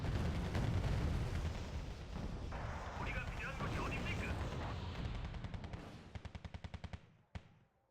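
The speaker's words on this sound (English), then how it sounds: "Continue to fire missiles at him because we've outranged him." Missile fire in the Wargame: Red Dragon battle game, a dense roar of launches and explosions that fades into a rapid run of distinct clicks and a final sharp crack, under a voice.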